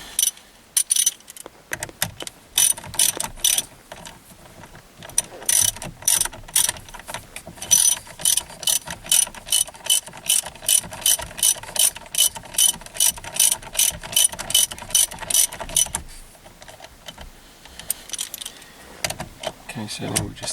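A ratchet socket wrench tightens the steering wheel bolt on a Holden, giving a loud, close, fast run of regular clicking strokes that goes on for many seconds, with a short gap near the start and a brief pause near the end.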